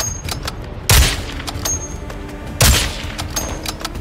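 Two heavy, booming shots of high-explosive rounds from a video game firearm crack out about two seconds apart, each loud and punchy with a short rumbling tail, over steady background game ambience and no talking.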